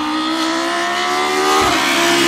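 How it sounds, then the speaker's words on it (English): Volvo S40 BTCC touring race car engine revving hard, a loud, steady high-pitched howl that rises in pitch and then shifts near the end, close and alone. "Volvo also decided to make the S40 into a BTCC racer, with one of the best sounding engines ever made."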